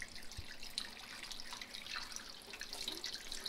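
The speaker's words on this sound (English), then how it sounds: "I'm gonna rinse them off." Tap water runs steadily into a sink to rinse fresh mahi fish roe, a soft continuous hiss and splash with faint drips, heard alone at low level.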